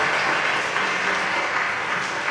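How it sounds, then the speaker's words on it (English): Round of applause from an audience at an all-district orchestra concert, dense even clapping filling the hall, steady and moderately loud with no talk. "you can give a round of applause"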